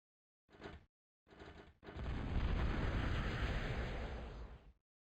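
Booming explosions from bombs in the Gods of War video game: two short blasts, then a long, loud rumbling detonation that holds for nearly three seconds before cutting off abruptly.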